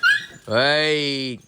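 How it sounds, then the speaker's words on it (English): A short shouted word, then a long, drawn-out high-pitched dog bark or whine held for about a second, loud and close. "Oh, look at her barking, look."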